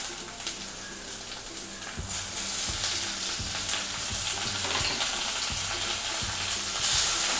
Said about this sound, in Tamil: இப்போ வந்து நம்ம கழுவி வச்சுருக்க இறாலை சேர்த்துடலாம்